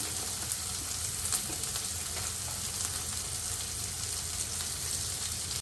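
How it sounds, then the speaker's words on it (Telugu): Onion and green chilli pieces fry in a hot pan with a steady, close sizzle and faint crackles throughout, no voices over it. "ఇప్పుడు ఉల్లిపాయ ముక్కలు, పచ్చిమిరపకాయ ముక్కలు వేసేస్తున్నాను"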